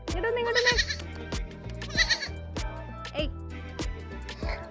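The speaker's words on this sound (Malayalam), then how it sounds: "ആടിനെ ഇങ്ങോട്ട് വിളിച്ചപ്പോ ആട് അങ്ങോട്ടാണ് കേട്ടോ പോയത്" Goat bleating outdoors during an evening walk, several loud, wavering bleats spaced a second or so apart with sharp thumps and a voice talking between them.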